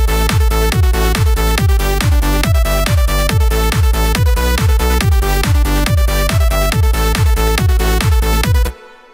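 A driving electronic trance pattern of pulsing stacked synth chords over a steady kick beat, loud and continuous, cutting off abruptly at the end.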